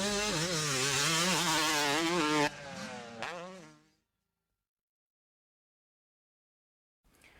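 Motocross motorcycle engine screaming at full throttle, a loud harmonic roar with rising and falling pitch for about two and a half seconds, then dropping off and fading out, followed by silence and a brief return at the end.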